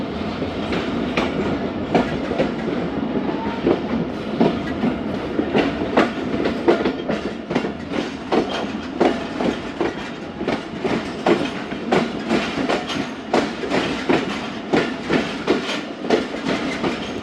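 Karachi Express passenger train running on rails, a steady rumble with dense rhythmic clickety-clack of wheels over rail joints throughout, loud and close as if heard from aboard the moving carriage.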